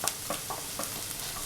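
Capsicum sizzles in hot oil while being stirred for pizza puff filling, a bright continuous crackle close by with soft rhythmic scrapes of the spatula against the pan.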